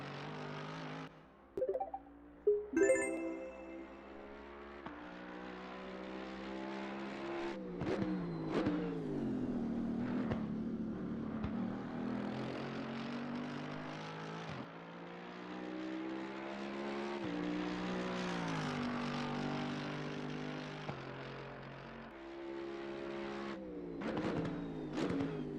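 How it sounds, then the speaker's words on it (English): V8 race car engine in Assetto Corsa Competizione revving loudly and continuously, rising and falling through gear changes with a brief tire squeal near the start, no talk over it. "Listen to the sound of this V8,"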